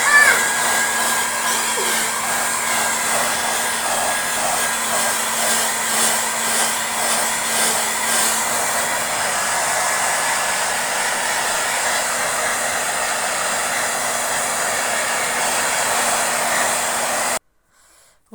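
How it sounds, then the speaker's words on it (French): A hair dryer blowing on a sofa cushion to dry a cleaned oil stain: a loud, close, continuous whirring drone with a steady motor whine, running about seventeen seconds before cutting off abruptly. "maintenant je vais sécher avec le sèche-cheveux"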